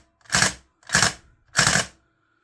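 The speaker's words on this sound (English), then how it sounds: "So nice little report, nice little bit of recoil, fun to fire." A VFC M249 gas blowback airsoft light machine gun dry fires with no BBs loaded, giving three sharp, loud, close reports evenly spaced about half a second apart, each with a brief rattling decay and silence between.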